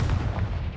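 A Confringo blast spell goes off in the Hogwarts Legacy video game, a loud, dense low boom with rumbling body that fills the whole brief moment without a clear decay.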